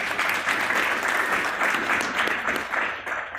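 Dense, sustained applause from the audience at a Bitcoin panel meetup, many hands clapping steadily and fairly loud, tapering slightly toward the end.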